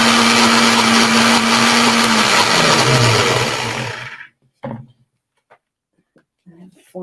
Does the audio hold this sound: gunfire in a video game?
no